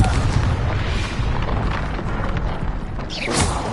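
A Confringo fire-blasting spell detonates in a Harry Potter video game, a loud sustained rumbling boom that rolls on with crackling debris and swells again near the end.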